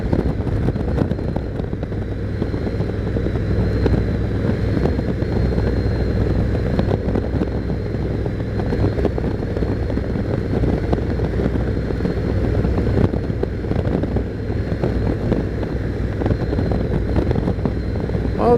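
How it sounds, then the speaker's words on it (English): Wind blows outdoors, a loud, steady low rumble buffeting the microphone without pause for the whole stretch, with no talking. "Oh, windy out here today."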